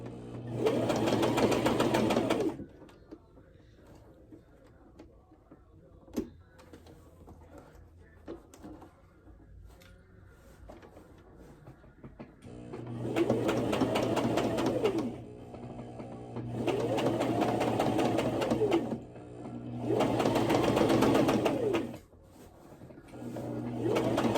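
Sewing machine stitching fabric for a skirt, running in several bursts of a few seconds each, with quieter pauses between them. Cooing pigeons and faint talk sit underneath.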